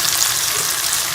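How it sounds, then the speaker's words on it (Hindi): Chicken fries in a pan in a steady, close, continuous hiss of bright sizzling that holds even throughout, with no voices. "चिकन हमारा अच्छी तरह से फ्राई हो गया, चिकन कलर चेंज कर लिया।"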